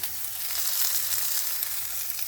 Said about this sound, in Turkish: Böyle kızartıyorum köftelerimi.